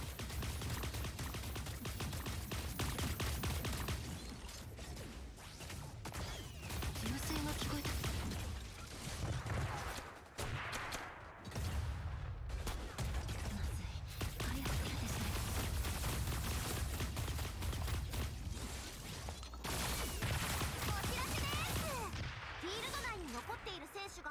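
Dense, rapid gunfire in the video game Super Mecha Champions crackles almost without pause, mixed with bursts and explosions, with voices underneath.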